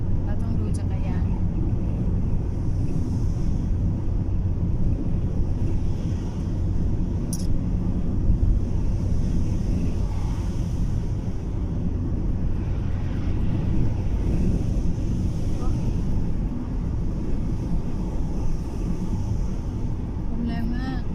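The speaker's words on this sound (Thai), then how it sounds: "ลมแรงมากรถจนสะบัดมันอยู่เจอกลางทุ่ง" Strong wind buffets a car driving across open countryside in Denmark, a steady loud roar of wind and road rumble running throughout with occasional gusts, while a person talks over it.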